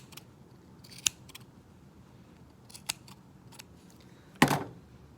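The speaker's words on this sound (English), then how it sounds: "the more you trim him, I found that you got to trim these more than you think" Scissors trimming a small yarn pom-pom, a handful of sharp isolated snips spaced irregularly, close and fairly loud against a quiet room, the last cut the heaviest.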